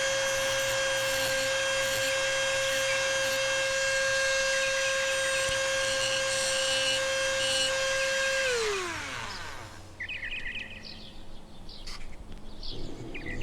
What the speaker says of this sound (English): I'll use a burr bit to remove the remainder of the pillar flange.